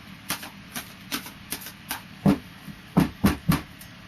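Tarot cards riffled in a final shuffle before cutting and dealing, giving a run of short papery bursts spaced irregularly about every third of a second, louder and thicker toward the end, with no voices.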